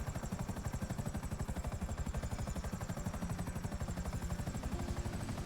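A helicopter hovers and descends in GTA 5 Online, its rotor thumping in a rapid, steady chop with a droning engine whine, loud and continuous throughout.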